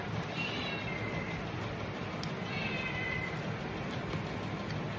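A shivering cat gives two faint, drawn-out meows over a steady background hum during a meal of rice and fish.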